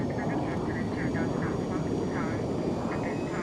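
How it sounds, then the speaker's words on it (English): An airplane flies overhead with a continuous, loud broadband roar and a faint wavering whine throughout, no break in the sound. "She flies in an airplane."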